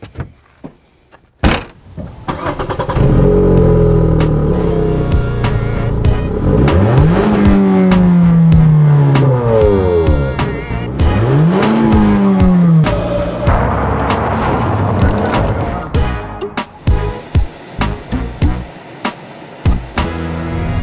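2014 Hyundai Elantra being driven, starting with a door thunk before the engine revs up and down in two clear accelerations under steady road noise, ending with a few clicks and knocks.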